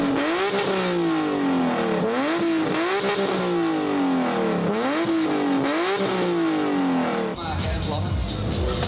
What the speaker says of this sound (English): It's just revving. I think it's just revving.